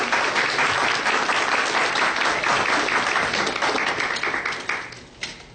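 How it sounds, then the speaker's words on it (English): A crowd applauds loudly and steadily for several seconds at a civics class gathering, the clapping thinning out toward the end. "a round of applause for everybody who's been supporting the movement"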